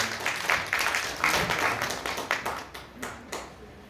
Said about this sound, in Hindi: एक बार जोरदार तालियों से स्वागत करिएगा सबका और अपने होने का परिचय दीजिएगा।